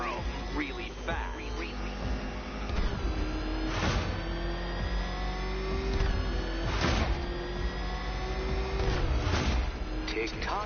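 A powerful engine revs and drones steadily throughout, rising and falling with several surging bursts, the revving Batmobile in Batman: Arkham Knight, heard close and loud against a game soundtrack.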